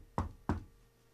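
Two firm knocks on a door, spaced about a third of a second apart, close and fairly soft, followed by quiet.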